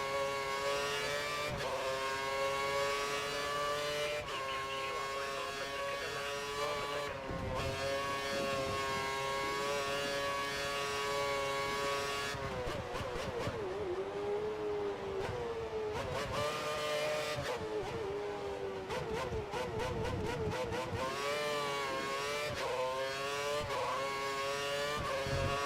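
Formula 1 cars in the F1 2013 racing game at the British GP: a continuous high engine whine rises and falls through gear changes, with other cars roaring close by, loud and with no voices.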